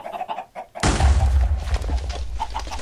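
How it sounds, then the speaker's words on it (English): A short chicken cluck from the video game Block Hunt, followed by a loud, dense burst of sound that carries on to the end. "Chicken! Chicken!"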